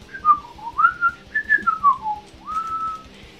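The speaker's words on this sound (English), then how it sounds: "Yes, I can whistle." A person whistles a short, wavering melody of several sliding notes, clear and close with no talking.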